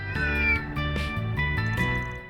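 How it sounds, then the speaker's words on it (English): A small cat in the video game Trails Through Daybreak meows several times in short, tonal cries over a steady game music background, close and clear with no talking. "Oh, there's a little cat over there."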